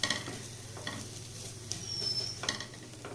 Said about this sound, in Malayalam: ബീഫ് മേലെല്ലാം ആവണ രീതിയിലൊന്ന് നമുക്ക് മിക്സ് ചെയ്ത് കൊടുക്കാം